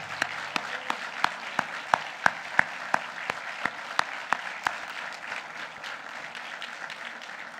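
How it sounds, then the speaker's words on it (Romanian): A crowd at a campaign launch for a mayoral candidate in Onești claps for several seconds. One sharp clap stands out in a regular rhythm above the wash of applause, which continues after that rhythmic clapping stops. "Cu un ropot sănătos de aplauze!"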